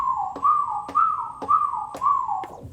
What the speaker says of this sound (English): And then I do the same thing with the whistle.